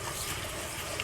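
A whisk swirls raw rice around in a bowl of cloudy water, making a continuous close sloshing and splashing that fills the whole short moment.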